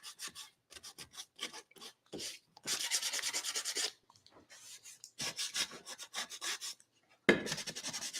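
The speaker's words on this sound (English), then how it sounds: "Now I can sand it." Painted thrifted home decor piece being sanded by hand, a harsh raspy scrubbing in long bursts broken by short pauses, close and loud, with no talking.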